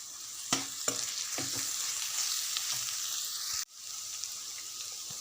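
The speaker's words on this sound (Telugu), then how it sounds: "ఈ అల్లం వెల్లిపాయ పేస్ట్ పచ్చి వాసన పోయేదాకా వేగనివ్వాలి." Ginger garlic paste frying in a pan for a drumstick masala curry gives a soft, continuous sizzle, broken by a few sharp stirring clacks early and a sudden dip near the end.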